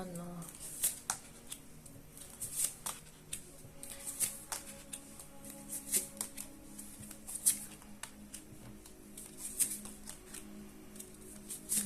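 Rapid riffling bursts of playing cards being shuffled, repeating every second or two, with quiet talk and room noise underneath.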